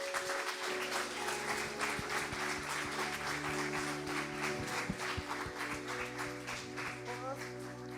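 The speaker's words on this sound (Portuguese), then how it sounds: "Você quer dar um aplauso a Jesus?" Congregation clapping during a church service, a sustained round of applause with scattered hand claps over a held organ-like musical drone, moderately loud throughout, with some voices mixed in.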